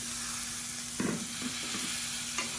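Softened cooked chickpeas are stirred into a hot pan, giving a few soft scraping stirs over a faint steady sizzle, close and quiet with no talking.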